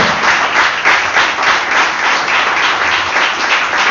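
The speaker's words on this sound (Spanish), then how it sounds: "Aplauso al Señor de la esperanza." Church congregation applauds in praise during a sermon, a loud, continuous wash of many hands clapping close and steady throughout.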